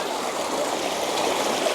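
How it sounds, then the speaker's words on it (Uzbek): A river flows in a steady, dense rushing wash of water, loud and continuous with no voices over it. "Daryo, toshqin, suvlar, to'lqin."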